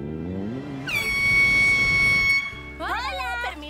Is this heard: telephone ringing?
no